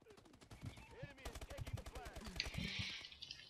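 Rapid bursts of automatic gunfire in Call of Duty: Advanced Warfare, sharp repeated shots with weapon and game effects under a voice talking, ending in a brighter noisy burst.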